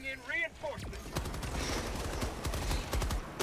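Rapid machine gun fire chatters in the video game Helldivers, a fast, steady stream of close shots following a brief spoken voice at the start.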